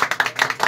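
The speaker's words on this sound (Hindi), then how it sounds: "ताली बजा दो" Short bursts of hand clapping from a group welcoming guests at a neighbourhood ustad-shagird gathering, several quick uneven claps close by, loud and alone without talk.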